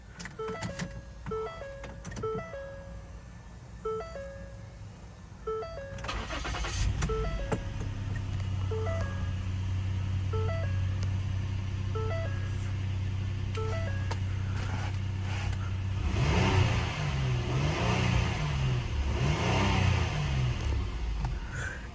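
A 2013 Ford Edge SEL with automatic transmission chimes repeatedly inside the cabin, then its engine cranks, catches and settles into a steady, smooth idle heard from inside the car.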